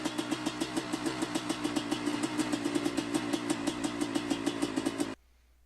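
A motorcycle engine idles in the MX Bikes racing game, a steady loud run of rapid, evenly spaced firing pulses for about five seconds before it cuts off abruptly into near silence.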